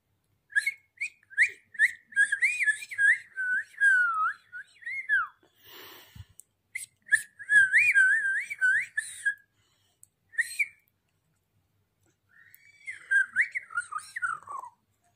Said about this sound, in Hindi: ऐसे तो ऐसे विसल करी जाती है